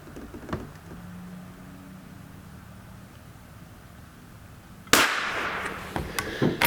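A single sharp gunshot from a Winchester 67 bolt-action rifle with a repaired, welded bolt, fired at a close target outdoors; it cracks loudly after several seconds of quiet ambient background, followed by a few fainter clicks and knocks.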